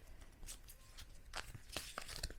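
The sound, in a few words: shuffling tarot cards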